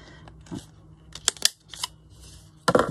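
Scissors snipping through paper while trimming a pocket piece for a large shabby-style journal folio, a few close, crisp cuts and rustles spread across the moment, ending in a louder burst of paper handling.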